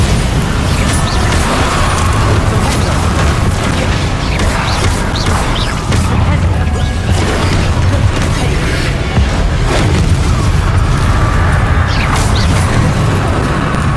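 Bombarda and Incendio spells blast repeatedly in Hogwarts Legacy, with loud booms, crashes, and crackling fire effects piling into a constant, dense din of spell combat.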